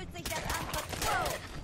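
Gunfire sprays in rapid, uneven bursts in Fallout 4, fairly loud and close, with a few sharp impacts and a faint high whine.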